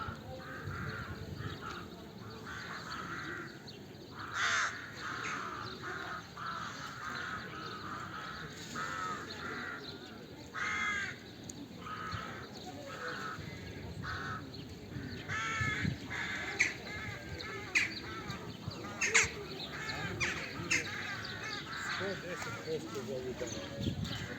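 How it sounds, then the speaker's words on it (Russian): Crows sit in their nests high in a tree in the city of Niš, Serbia, in spring, giving repeated harsh caws at irregular intervals. The calls are moderately distant and sound over a low outdoor background. "Это вороньи гнезда, они там сидят и каркают."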